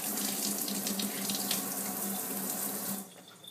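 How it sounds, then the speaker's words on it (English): Tap water runs steadily into a sink as the base of an Innokin iClear 30 vape tank is rinsed underneath, a close, even splashing hiss that cuts off near the end. "So rinse off the bottom portion."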